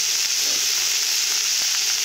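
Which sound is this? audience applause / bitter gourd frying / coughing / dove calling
bitter gourd frying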